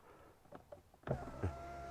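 One-touch power window rising on a 2021 Kia Mohave V6 3.0 4WD: a few small clicks, then a steady electric motor whir close by inside the car, carrying on to the end.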